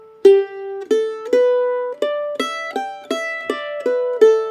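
A mandolin plays a phrase of an Irish jig's B section: a run of bright, clearly picked single notes at a lively lilting pace, each note ringing briefly before the next, with no voices.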